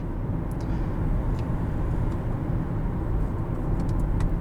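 Steady low road and engine rumble from a 2018 Hyundai Tucson SEL cruising in normal drive mode, heard from inside the cabin as a continuous even drone with no talk.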